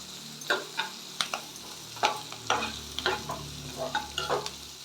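Curry leaves crackle and spit as they hit hot oil in a pan, a string of sharp sizzling bursts over a quiet frying hiss, with a spoon stirring now and then.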